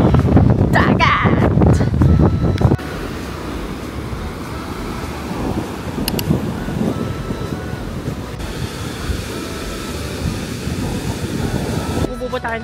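Wind blows by the sea on Mahe Island in the Seychelles, a loud steady rushing roar of wind buffeting the microphone, with a brief burst of voices and clatter at the start and end.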